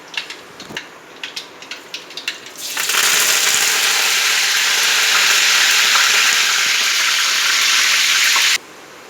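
Mustard seeds and curry leaves hit hot oil with a sudden loud, steady sizzle that holds for about six seconds and then cuts off, preceded by a few scattered crackling pops of seeds spluttering in the pan.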